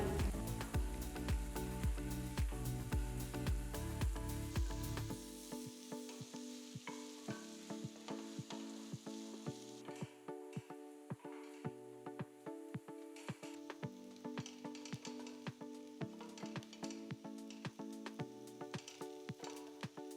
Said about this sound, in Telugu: పొడవగా తరిగిన మూడు మీడియం సైజ్ ఉల్లిపాయ ముక్కలు రెండు నిలువగా కట్ చేసుకున్న పచ్చిమిరపకాయలు వేసి ఉల్లిపాయ ముక్కలు గోల్డెన్ బ్రౌన్ కలర్లోకి వచ్చేంత వరకు వేయించుకోవాలి